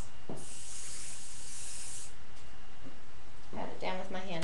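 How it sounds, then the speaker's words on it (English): Hairspray hisses in one steady burst of about two seconds onto an updo styled with a headband, followed by quieter handling and rustling of the hair. "I'm going to go ahead and spray all of this."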